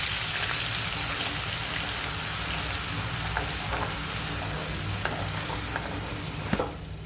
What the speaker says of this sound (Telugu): సేమ్ ఆయిల్లోకి ఫ్రెష్ అల్లం వెల్లుల్లిపాయ పేస్ట్ వేసుకోవాలి. వేసుకొని బాగా ఫ్రై చేసుకోవాలి.